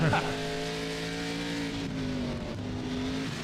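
Stock race cars of a grand national division lapping Lime Rock Park in iRacing, their engines droning loud and close with a steady tonal whine that bends in pitch, while a commentator talks over them.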